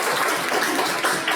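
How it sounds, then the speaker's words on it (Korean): Middle school students in a sex education class clap for a classmate, a dense, steady burst of applause filling the classroom throughout. "우리 친구 박수 한번 쳐주세요."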